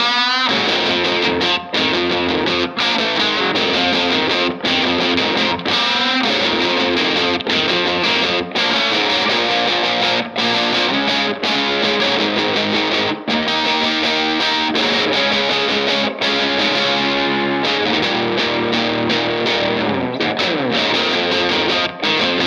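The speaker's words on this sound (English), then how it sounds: "you can really dime it and get that natural amp distortion without the volume" Distorted electric guitar, a Fender Gold Foil Jazzmaster or Telecaster through a small tube amp turned fully up, plays continuously and loudly, thick overdriven chords and notes with a warm, saturated amp tone and no voices.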